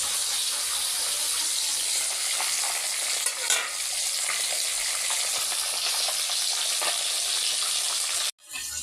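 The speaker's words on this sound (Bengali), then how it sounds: "আমি কড়া কড়া করে মাছটা ভাজলাম" Bata fish frying crisp in a pan, a steady dense crackling sizzle running close and loud throughout, with a few brief spatter bursts before cutting off abruptly near the end.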